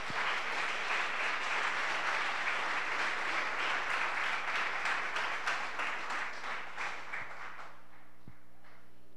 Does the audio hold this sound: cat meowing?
no